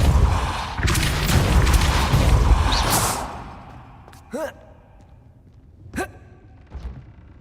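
A Depulso spell cast in the PC game Hogwarts Legacy: a loud broadband rush of magic and rumble fades out, followed by several short whooshing bursts, each carrying a brief voiced cry.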